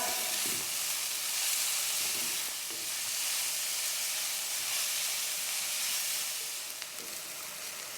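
Onion frying on a gas stove with the flame turned up until it softens, giving a steady broadband hiss of sizzling oil with a few soft stirring scrapes, close and continuous throughout.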